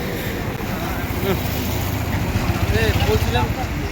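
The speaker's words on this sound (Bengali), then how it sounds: "ধীরে ধীরে একে একে সব বাইক আমাদের ঢুকছে।" A group of about twenty motorcycles rolls slowly into Umarpur one after another, giving a steady, dense engine rumble close by with voices talking over it.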